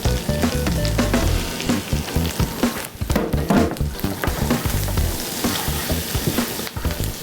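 Chopped onion and herbs sizzling loudly in a hot pan, a dense steady frying hiss with rapid crackles and occasional stirring clatter running continuously throughout.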